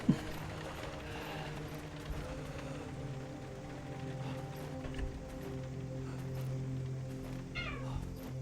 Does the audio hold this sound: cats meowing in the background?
yes